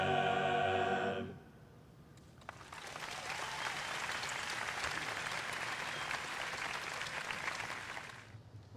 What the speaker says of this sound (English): Let's have another round of applause for Penn's Glee Club.